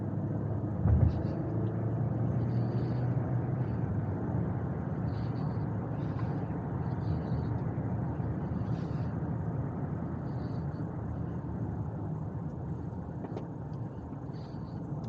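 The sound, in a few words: 2020 Ford Edge Titanium accelerating hard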